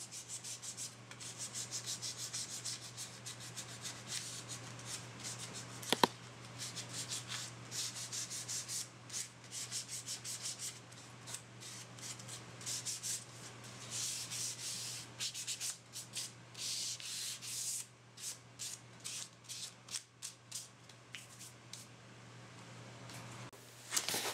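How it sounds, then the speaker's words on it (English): Sandpaper rubs along the edges of a wooden cutting board in steady back-and-forth strokes, close and fairly soft, continuing throughout with no one talking. "Here I'm just kind of smoothing off those edges a little bit."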